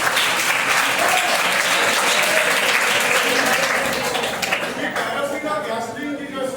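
An audience at a workshop in a college hall claps loudly and steadily, a dense wash of applause that slowly thins toward the end, with a voice underneath.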